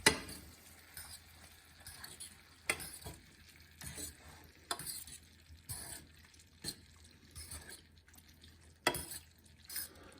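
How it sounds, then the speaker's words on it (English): A dish is stirred in a pan as it fries, giving soft irregular scrapes and clacks over a faint continuous sizzle, with no talk. "we give it a nice stir"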